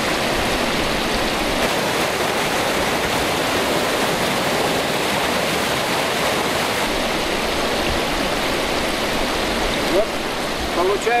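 Treated water pouring out at the outlet of a sewage treatment plant, a steady loud rushing splash that runs unbroken, with no voices over it.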